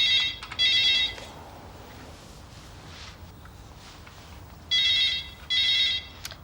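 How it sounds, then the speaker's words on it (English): A telephone in a 1987 home setting rings in two pairs of bright electronic trills, near and clear, separated by a quiet pause with faint room noise. "Phone's ringing."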